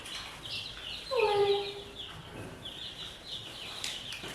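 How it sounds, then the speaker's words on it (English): A flock of mixed-breed baby chicks cheeps in repeated high, thin chirps close by, with one louder, lower call rising briefly above the steady peeping. "Baby chickens are just adorable."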